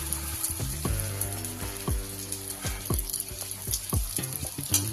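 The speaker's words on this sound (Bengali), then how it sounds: "এইভাবে এইভাবে আমি চটচট করে একসাথে তেল দিয়ে দেবো।" Oil spooned over phuchka dough frying in a hot pan: a close, steady sizzle broken by a series of repeated short squeaky, falling-pitch bursts, like dough spluttering in the oil.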